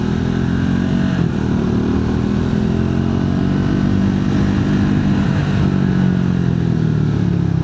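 A Triumph Speed 400 motorcycle on a short ride, its engine droning loud and close with a steady rumbling pulse and slight shifts in pitch as the throttle changes, wind rush layered over it throughout.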